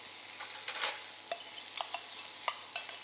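Potatoes tossed into onions frying in a pan for masala dosa filling, with soft sizzling and repeated scraping stirs of a spoon against the pan at an uneven rhythm, close and fairly quiet.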